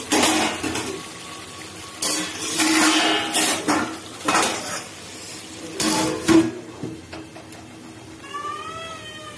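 A lid clanks onto a metal pot of frying, softened potatoes for a vegetarian curry, giving several loud, close metallic knocks and scrapes spread over the stretch, with a light sizzle and handling noise between them and no talk.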